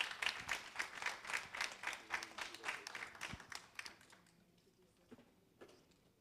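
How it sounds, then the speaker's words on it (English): An audience at a conference claps in a dense round of applause that runs loud for about four seconds, then thins out to a few scattered claps. "Let's give another round of applause."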